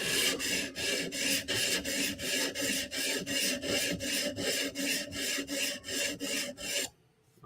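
A Bestech Tanto knife blade is drawn across a sharpening stone in even, rapid rasping strokes, about two per second, close and clear, ending in a brief pause.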